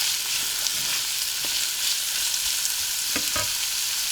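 Oysters, scallops and a few mussels hit onion already fried in butter, setting off a steady, bright sizzle with scattered small pops and clicks throughout.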